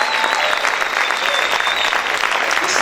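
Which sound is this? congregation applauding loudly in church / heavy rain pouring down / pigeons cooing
congregation applauding loudly in church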